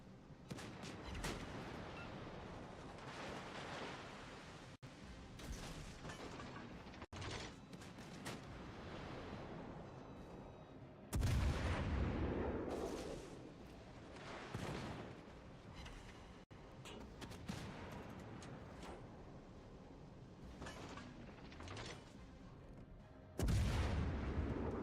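Gunfire in a naval boat combat video game sounds as repeated booming shots and heavy cannon-like blasts over a rumbling background, with a few louder impacts standing out, fairly distant and no talk.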